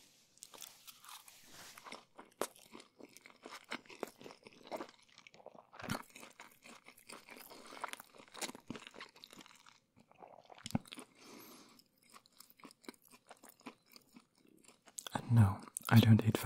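Chewing and biting into a caramelized vegetable and fish burrito, close to the microphone: soft, irregular crunchy mouth sounds and wet mastication, with a few louder bites and a louder burst near the end.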